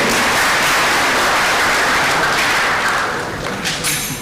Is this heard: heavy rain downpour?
no